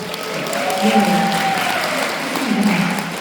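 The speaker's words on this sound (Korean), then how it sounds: "박수 한번 쳐주십시오" Audience applause at a product presentation, a steady wash of clapping from a seated crowd lasting a few seconds, with a voice speaking over it.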